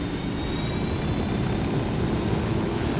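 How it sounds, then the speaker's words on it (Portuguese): A helicopter flies in Ghost Recon Wildlands, its engine and rotors giving a steady, loud broadband roar that fills the whole stretch with no voices. "Novamente helicóptero, que é a melhor maneira de viajar aqui."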